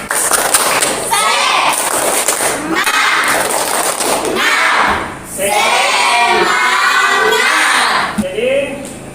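A class of students does the rhythmic 'tepuk semangat' clapping chant in a classroom, loud group claps and voices in bursts with a brief pause midway.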